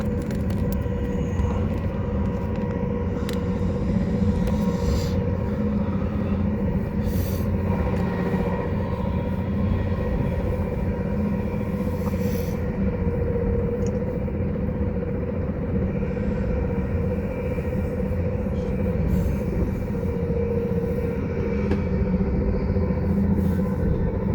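Caledonian Sleeper train on its final approach to Edinburgh Waverley through Calton Tunnels, a steady low rumble of wheels and carriage noise with faint clicks and hums, heard from onboard throughout.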